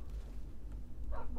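Dogs in the Minecraft video game give a few short barks and yips, mixed over steady low in-game background noise, brief and at moderate distance.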